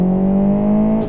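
A pursuing police car in the Live for Speed racing game, a loud steady engine drone with a strong low hum held at constant pitch, close and unbroken, with no talk.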